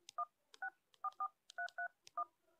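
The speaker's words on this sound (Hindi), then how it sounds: "देखिए दोस्तों, मेरा जो रजिस्टर्ड मोबाइल नंबर है मैं यहाँ पर एंटर करता हूँ" Phone keypad DTMF tones as a mobile number is keyed in while calling Paytm customer care: a quick, uneven run of about eight clear beeps, each with a faint key click, close and alone with no talk.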